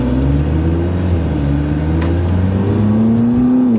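A McLaren supercar engine revs and accelerates hard, a loud, steady drone with rising harmonics that fills the clip, heard from close inside or beside the car.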